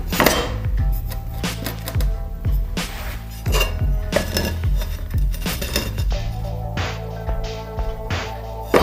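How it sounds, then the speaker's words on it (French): A manual tile cutter works a wall tile during a bathroom renovation, giving a run of sharp, close clacks and scraping knocks in an uneven rhythm with brief metallic rattles between strikes and no talking. "Je vais couper ici avec la carrelette."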